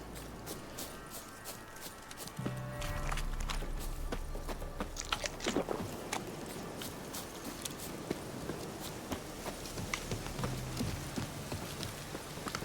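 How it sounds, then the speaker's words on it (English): Steady rain patters on surfaces throughout a video game scene in The Witcher, with scattered sharp clicks and taps over a low background hum. "Oh, good, it's raining."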